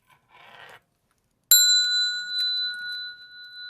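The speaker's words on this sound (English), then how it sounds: "Bell sound" A single bell is struck once, ringing out clearly with a long bright sustained tone, preceded by a brief soft rustle and a moment of silence.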